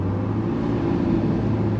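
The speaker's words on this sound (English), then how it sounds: "you can hear that supercharger whine as well" A supercharged Mk1 Mazda MX-5 engine pulls hard under steady load, a continuous close droning tone running evenly throughout with no one talking.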